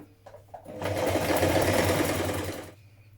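A sewing machine stitches a buttonhole bar while a child's dress from Simplicity pattern 9281 is sewn, starting after a few faint clicks into a steady, close whirring run of about two seconds that stops abruptly.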